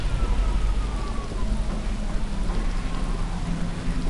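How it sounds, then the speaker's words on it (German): Steady rain pours down in the video game Dead Island, a dense, even hiss of falling water with a faint low rumble underneath and no voices. "Jetzt regnet es auf einmal."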